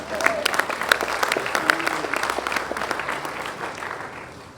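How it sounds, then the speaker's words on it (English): An outdoor crowd at a ribbon cutting for Lock 9 claps in a scattered, moderately loud round, with a few voices faintly audible underneath. "So you can clap on that too."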